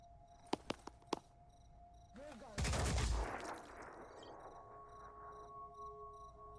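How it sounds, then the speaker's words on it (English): Gunfire from the turn-based strategy game Phoenix Point: a few sharp separate shots early, then a loud dense burst of fire that decays into a lingering rumble, with faint insect-like chirps underneath. "These guys are going to just be busy shooting each other,"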